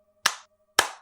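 Two crisp hand claps from a show's co-host, close and dry, spaced about half a second apart with silence between.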